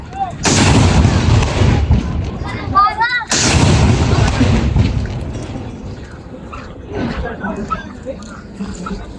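Philippine Navy 21-gun salute at Harbour Square on Manila Bay: two loud, sharp cannon blasts about three seconds apart, each followed by a long rumbling decay, with crowd voices and shouting around them.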